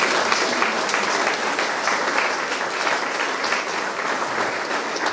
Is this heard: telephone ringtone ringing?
no